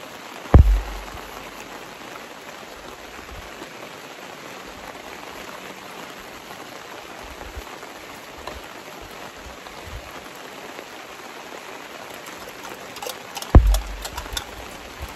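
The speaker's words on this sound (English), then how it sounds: "Got a little bit of rain on there." Steady rain patters continuously at a soft, even level on an outdoor oil-painting setup, with a couple of brief thumps at the start and end.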